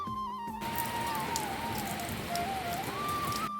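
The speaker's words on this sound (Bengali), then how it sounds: "দেখো কতটা বৃষ্টি পড়ছে।" Heavy rain pours down in a dense, continuous hiss and patter of drops hitting surfaces, with a faint steady tone running beneath it throughout.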